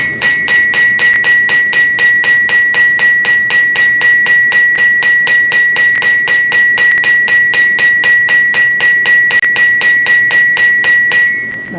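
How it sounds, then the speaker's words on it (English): Steady, rapid mechanical hammering of a turning hammer forging hot metal on an anvil in a workshop, a loud, evenly paced ringing stream of blows lasting about twelve seconds with no talk. "Let's use the turning hammer"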